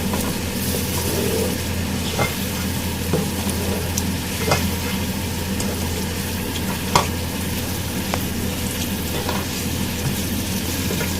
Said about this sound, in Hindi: इसको मैं यहाँ पे अच्छे से अब दोबारा भूनूंगी दही के साथ